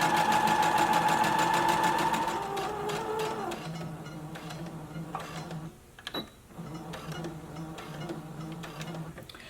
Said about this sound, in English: lower your needle, go ahead and begin sewing, back stitch